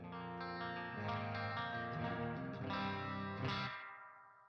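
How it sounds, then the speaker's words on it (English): Guitar amplifier played through its clean channel with the reverb knob turned fully up: ringing chords with a wash of lingering reverb and shimmer, moderately loud and alone, fading out at the end. "let's just turn the reverb all the way up and you can hear the clean channel"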